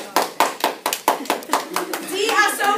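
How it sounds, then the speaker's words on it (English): Students in a French class clap for Sophie in a quick, evenly spaced run of about nine sharp claps, which then give way to children's voices. "Sophie, applaudis Sophie."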